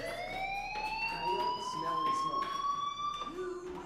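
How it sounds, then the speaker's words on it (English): A fire alarm sounds in the video game Life is Strange, a sustained rising electronic wail with harmonic overtones, steady and fairly loud throughout under quiet background tones. "Hey, do you hear that fire alarm?"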